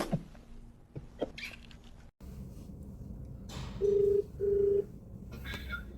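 A phone keypad sounds two loud, steady dialing tones in quick succession near the close, after a stretch of quiet room noise with a few soft clicks.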